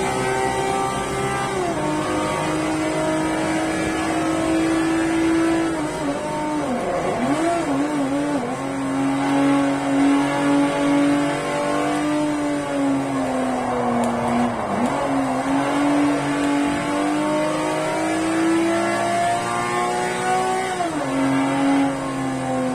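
A racing video game car engine revs continuously and loudly, its pitch climbing and dropping through shifts and corners, with brief dips around the middle; no voices sound over it.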